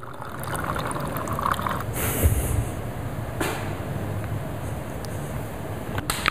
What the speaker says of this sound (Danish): og hælder så efterfølgende mine afkølede lage